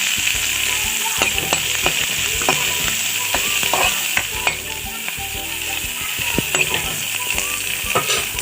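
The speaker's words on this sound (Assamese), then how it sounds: "নহৰুখিনি তেলত দি ল'ম।" Garlic sizzles steadily in hot oil in a pan, with a bright continuous crackle and repeated clicks and scrapes of a spoon stirring throughout, no voice present.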